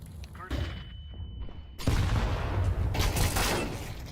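A flashbang grenade detonates in Counter-Strike 2 competitive matchmaking: a sharp burst, then a steady high ringing tone over muffled sound, followed by a loud, dense blast of gunfire and explosions.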